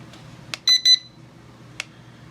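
A Holy Stone HS450 drone remote gives short, loud electronic beeps during compass and gyro calibration: a quick click, two sustained tones close together, then a single brief chirp, close to the mic.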